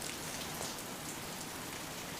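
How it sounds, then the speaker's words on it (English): Heavy rain falls outside a meeting room, a steady, dense hiss of drops on a surface that fills the whole stretch with no voices over it. "It's really raining out there."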